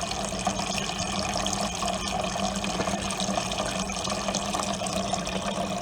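Water pours and gurgles steadily out of the tank of a junk air compressor into a bowl, a continuous close splashing stream with no talking.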